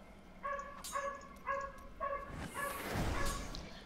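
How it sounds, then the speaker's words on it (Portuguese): A neighbour's dog barks repeatedly in a quick series of yelps at a distance, with a thump and some muffled noise near the end. "E o cachorro do vizinho continua latindo."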